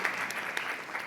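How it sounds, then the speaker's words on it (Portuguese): A brief burst of dense audience applause at a philanthropy forum, steady many-handed clapping filling the room without pause. "Vamos aplaudir aqui a fala do Jonathan"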